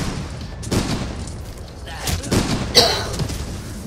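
Musket volleys crack in a video game battle with line infantry, several sharp, distant-sounding shots scattered over a few seconds, one louder report standing out amid low rumbling background noise.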